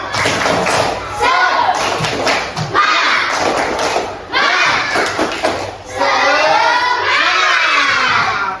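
Students in a classroom repeat the 'tepuk semangat' spirit clap even louder, with bursts of rhythmic clapping, thuds and excited shouting voices, near and crowded.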